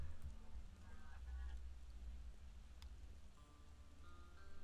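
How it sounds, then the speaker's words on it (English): Psychic rain falls in the video game RimWorld, a steady low hiss of rainfall continuing evenly throughout without any talk. "this is a psychic rain, but it doesn't wash it away."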